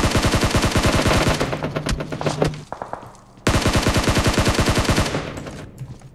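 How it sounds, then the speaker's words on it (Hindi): In PUBG Mobile, rapid bursts of automatic gunfire rattle close and loud, with one long volley, a short pause of scattered shots, then a second sustained volley. "उधर उधर बंदे फायरिंग हो रही"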